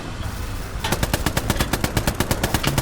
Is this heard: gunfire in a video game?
yes